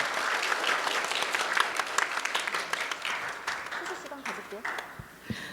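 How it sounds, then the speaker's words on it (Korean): Audience at a Korean Fair Trade Mediation Agency compliance symposium applauds a Korea Fair Trade Commission presenter, dense clapping filling the room and thinning toward the end. "다시 한번 큰 박수 보내주실까요?"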